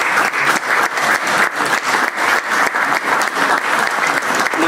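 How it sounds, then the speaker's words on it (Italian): Loud, sustained applause from a conference audience gathered to remember a tennis figure, many hands clapping in a dense continuous wash with a steady pulsing rhythm throughout. "Il modo migliore per ricordarlo è non solo fargli un grande applauso"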